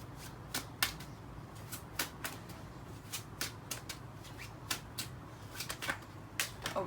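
Cards shuffle in repeated quick riffles, a string of sharp papery bursts at irregular intervals, close and fairly quiet, with no talking.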